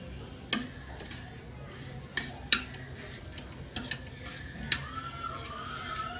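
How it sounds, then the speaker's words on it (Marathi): Bitter gourd frying on a flat iron griddle is stirred, with a soft steady sizzle under sharp ticks and taps of a spatula against the metal, close and without talk. "चला आपले कारले मस्त मिक्स झालेले आहेत बघा"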